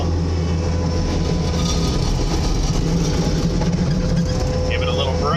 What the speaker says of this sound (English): This is not a high flow skid steer.